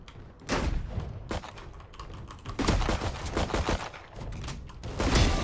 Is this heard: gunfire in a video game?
yes